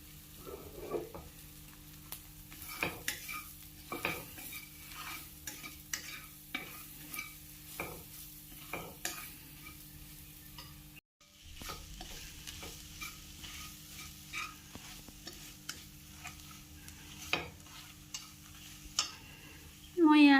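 Dried fish and spices being stir-fried in a pan, with a soft, steady sizzle under repeated sharp scrapes and knocks of a spoon stirring at an uneven rhythm, close and fairly quiet.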